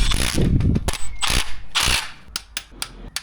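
A torque wrench tightens bolts to 45 newton meters while a dead Land Rover is being revived. Close, crisp mechanical clicks and ratcheting come in bursts, then a few sharp, isolated clicks spaced out near the end.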